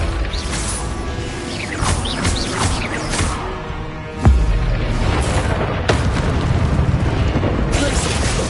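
The Confringo explosion spell goes off in the Hogwarts Legacy video game with a sudden booming blast about midway. Game combat noise and a broad, continuous rumble of effects surround it, loud and dense.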